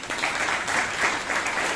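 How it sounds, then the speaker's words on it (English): An audience at a Bangalore Toastmasters meeting gives a round of applause, with steady, dense clapping from many hands heard throughout. "please give him a huge round of applause"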